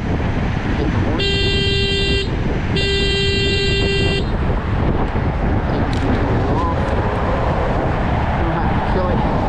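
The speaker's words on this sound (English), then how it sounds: "hit the horn" Two short electronic beeps from the horn of a Kaabo Mantis Pro SE electric scooter, loud and close, cutting through heavy wind rush and outdoor noise.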